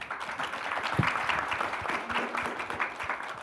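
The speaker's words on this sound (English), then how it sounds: "Everyone, a big round of applause for our panel." Conference audience applauding a panel, a brief steady patter of many hands at moderate distance, fairly soft.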